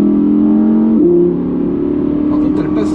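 Audi R8 V10 Performance in dynamic mode under automatic control, engine pulling hard then dropping a gear with a quick shift and steady mid-pitched drone, loud and close with someone talking over it.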